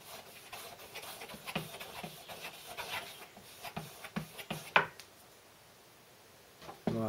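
An Opinel knife blade is stropped on a flea-market leather strop, giving a series of quiet rhythmic rubbing strokes with one sharper scrape near the end; no one speaks.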